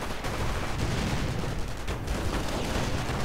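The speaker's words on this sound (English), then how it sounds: "Large forces of riflemen hitting from west and east alongside Rangers. Grenades going off, killing a lot." Rifle fire and grenade explosions from a WWII strategy video game form a dense, continuous battle barrage, with overlapping shots and booms filling the whole stretch and no voices.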